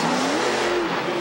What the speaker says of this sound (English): I love the way he's keeping that engine up, letting the fans see and hear.